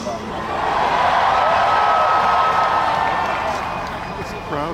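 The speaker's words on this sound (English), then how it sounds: "This crowd is electric." A big outdoor crowd of about ten thousand at a Bernie Sanders rally on Boston Common cheers and applauds, a dense, steady roar of clapping and shouting that swells and holds for several seconds.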